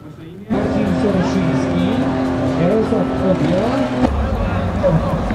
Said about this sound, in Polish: mieliśmy okazję zobaczyć popisową jazdę bokiem Macieja Polody, polskiego driftera